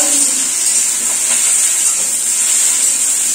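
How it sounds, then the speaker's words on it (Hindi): Okra (bhindi) sizzles and hisses loudly in hot oil in a kadhai, a close, steady, bright frying crackle that runs without a break. "तो हम इसे कढ़ाई में भिंडी डालेंगे, भिंडी डाल दूंगी।"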